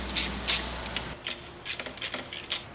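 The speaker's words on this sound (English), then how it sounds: "next I'm going to take out all the other bolts" Short bursts of ratchet socket wrench clicking while bolts come off an Audi/VW 1.8L engine during cylinder head removal, several quick separate runs of close, crisp ticking with a low hum at the start.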